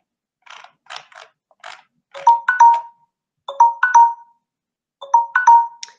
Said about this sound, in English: I guess you heard the alarm from my from my mobile phone